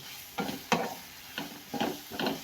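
Chicken frying with onion in a pan for Kerala-style chicken sukka: a steady sizzle broken by five stirring scrapes at an uneven pace, close up with no voices.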